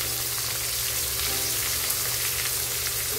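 Chopped onions frying in a pan with garam masala for a sweet corn mixed vegetable dish, giving a steady, dense sizzle that runs unbroken and fairly loud with no talking.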